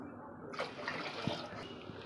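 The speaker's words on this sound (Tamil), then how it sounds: "ஒரு நாலு கிளாஸ் தண்ணி ஊற்றிடுறேன்" Faint, soft gush of about four glasses of water pouring into a pot of rice and lentils, a low steady splash at modest volume.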